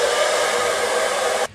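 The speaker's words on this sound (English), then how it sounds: "Take your trusty hair dryer and blow dry your hair." A handheld hair dryer blows steadily at close range while drying hair, a loud continuous broadband whoosh that cuts off abruptly near the end.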